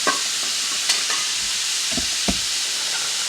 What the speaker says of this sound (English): And we'll give that a stir.